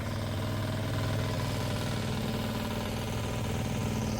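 A farm tractor sits idling in a field just after ploughing, its engine giving a steady, close, even low rumble with no talking.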